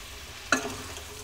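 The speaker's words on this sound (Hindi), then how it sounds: "चलिए अब इसमें हम टमाटर डाल देते हैं और इसे लो फ्लेम पे हम पकाएंगे" Tomatoes and spices cook in a pan over a low flame for a sem aloo curry, a faint steady simmer with one brief burst of sizzle as something is stirred or added.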